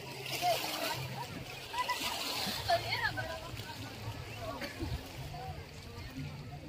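Sea water at Marina Beach in Semarang, with irregular splashes and sloshing of shallow surf over a continuous outdoor wash, moderately loud and close.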